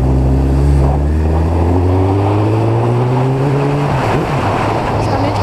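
A Suzuki Bandit 1200 motorcycle engine revs smoothly and climbs steadily in pitch for several seconds, loud and close, then drops off into a rougher rumble.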